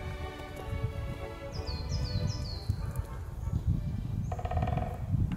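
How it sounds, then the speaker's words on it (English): A rapid woodpecker drumming burst rings out near the end in woodland, after a few high bird chirps over a rumbling outdoor background. "you might hear a woodpecker in a minute."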